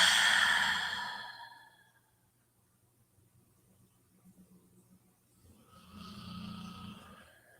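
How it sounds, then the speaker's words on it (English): A man snores deeply and slowly nearby, one long breathy snore fading out, a quiet pause, then another soft rumbling breath building back up. "Nice, deep, slow snore."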